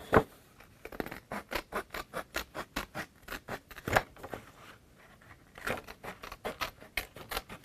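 Scissors snip papercraft pieces in a quick irregular series of crisp close cuts, with paper rustling and brief pauses between runs of snips, no talk.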